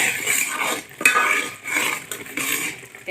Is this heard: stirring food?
yes